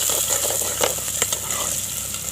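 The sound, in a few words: onions, chilies and curry leaves frying in a pan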